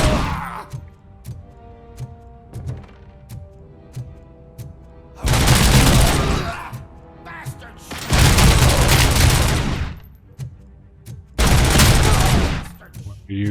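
Gunfire from RoboCop's weapon in the game RoboCop: Rogue City, three loud sustained bursts of rapid automatic fire separated by quieter stretches of game sounds and scattered single shots.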